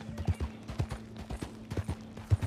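Horse hooves in the Red Dead Online video game clip-clop in a quick, uneven series of close, hollow thuds, with a second horse along, and nothing else heard over them.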